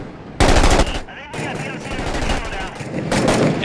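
An M249 SAW belt-fed machine gun in a video game fires rapid, loud, close bursts with short pauses between them, while someone talks over the shooting.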